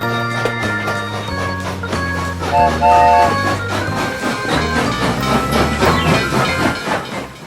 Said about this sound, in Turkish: sanırsam tren istasyondan hareket etmek üzere